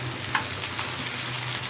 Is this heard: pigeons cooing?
no